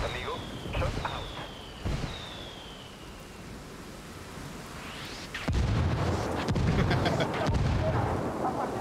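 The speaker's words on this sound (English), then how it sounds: "Calling for indirect fire." An artillery strike lands in the video game Ghost Recon Wildlands: after a few whistling tones, a series of heavy, loud booming impacts rolls in, with players talking over the game sound.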